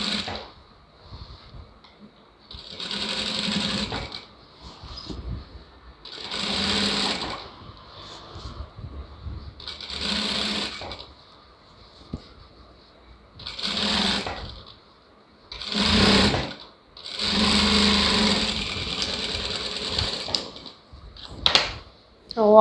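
A sewing machine stitches a lining blouse in bursts of steady whirring, each run lasting a few seconds and separated by pauses, close and fairly loud.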